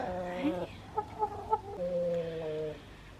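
Chickens cluck and squawk close by in several short bursts, with a few sharper calls in between.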